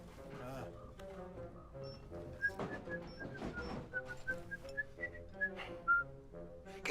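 Someone whistles a short run of clear, rising and falling notes, with quiet voices and shuffling underneath.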